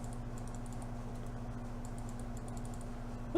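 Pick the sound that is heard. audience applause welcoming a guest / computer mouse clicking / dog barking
computer mouse clicking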